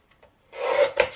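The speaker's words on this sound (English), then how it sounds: "I am going to take my embossed piece and cut this down" A short cut through an embossed card piece, a couple of faint ticks and then a brief rasping scrape that ends with a sharper snip, close and quiet.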